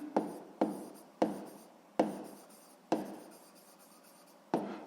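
Pen strokes scratching across a notebook page by hand, in six short bursts that each start sharply and trail off, close and fairly quiet, with no talking.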